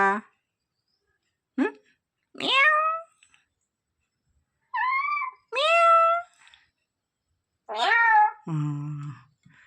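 A parrot mimics a cat's meow, giving several drawn-out, nasal mewing calls with short silences between them, close and clear.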